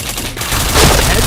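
Rapid gunfire bursts from the PointBlank shooter game, a dense continuous volley of close, loud shots filling the whole moment with no talking.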